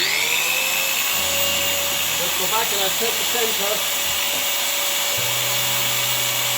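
On a milling machine, a drill lightly spots a hole centre in a workpiece; a steady spindle whine runs throughout, with a short burst of cutting chatter midway while someone talks.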